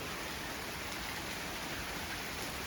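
Steady rain falling on a camper van roof and its solar panels, a dense even patter with no talk.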